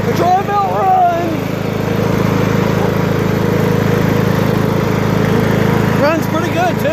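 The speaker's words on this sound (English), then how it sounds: "Runs great! She goes! The Troy bilt runs!" A Troy-Bilt MTD riding lawn mower engine runs steadily with a continuous low chugging drone, with a voice speaking over it near the start and end.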